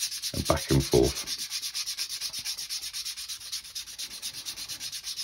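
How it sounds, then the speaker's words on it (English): High-grit sandpaper rubs back and forth along the edges of a leather strap in a steady, rhythmic series of close, soft rasping strokes, with a few heavier handling sounds at the start and no talking. "I'm just going to go straight in, going back and forth and back and forth."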